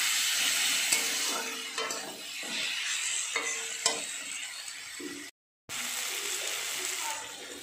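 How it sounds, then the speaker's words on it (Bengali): Fish curry fries in a pan as turmeric powder is stirred in, giving a steady sizzle with repeated spatula scrapes and clicks against the pan, broken by a brief gap. "আর একটু ভালো করে নাড়াচাড়া করে নিচ্ছি।"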